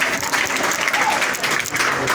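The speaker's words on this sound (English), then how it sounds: "clap for it" A seminar audience applauds in a steady, close wash of many hands clapping together, sustained throughout without a break.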